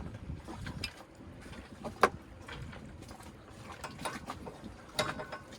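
A large wrench turns a big bolt aboard a sailing boat in the Bahamas, giving faint clicking ratchet and metallic knocks with a couple of sharper clanks over low background noise.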